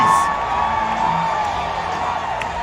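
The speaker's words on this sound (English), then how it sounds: "The crowd goes crazy." Stadium crowd at a Hokies football game roaring and whooping as the team takes the field, a steady, loud wash of cheering with scattered yells and a high shout near the start.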